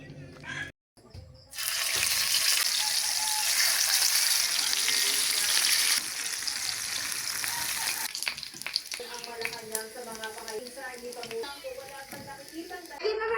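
Fish fries in a pan in a rural Philippine home, a steady loud sizzle and crackle running most of the way, dropping briefly to a softer hiss before bubbling on.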